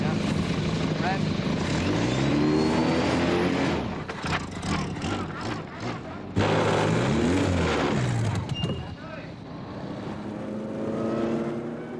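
A race car engine revs repeatedly during a driving school lesson, rising and falling in pitch through gear changes, loud and close, with someone talking over parts of it.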